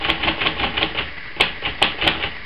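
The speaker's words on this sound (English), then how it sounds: "as you can see, it's typing." Keys of a gold-plated Royal Quiet Deluxe manual typewriter clatter in a quick, uneven run of close, crisp strikes, with a few louder sharp hits near the end.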